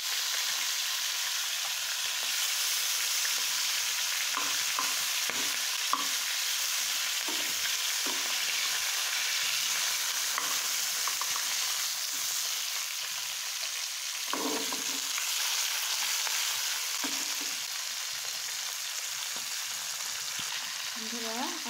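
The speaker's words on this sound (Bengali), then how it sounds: "এখন বাকি মাছগুলি দিয়ে দিচ্ছি।" Fish pieces frying in an oiled pan give a loud, continuous close sizzle throughout, with occasional soft scrapes and faint background voices.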